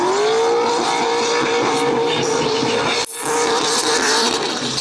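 Drift car skimming the edge of a circuit during an LZ World Tour event in Australia, a loud sustained engine roar with a rising tone, briefly cut by a sharp break before the engine howl resumes.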